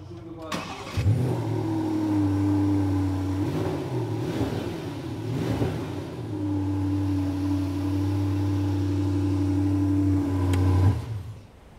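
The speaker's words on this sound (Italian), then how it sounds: "Questo, ad esempio, è il sound della versione GTS della Panamera." A Porsche Panamera GTS engine starts and rumbles at idle, revving sharply several times before settling into a steady deep drone, then cutting off.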